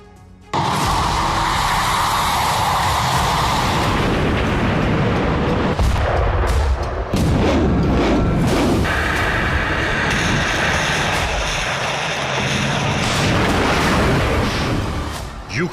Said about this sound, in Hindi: सर्दी की शुरुआत हुई और इसी के साथ रूसी सेना की बमबारी भी विध्वंसक हो गई।